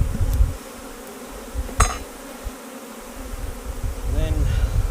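Honeybees buzz around an open, strong beehive during a split, a steady near hum with occasional louder passes of individual bees close by.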